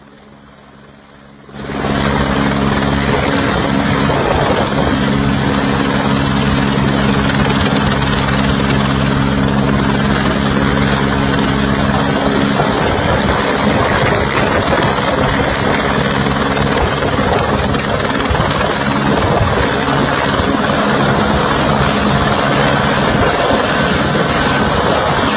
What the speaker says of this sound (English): This yellow helicopter is skating on the ice.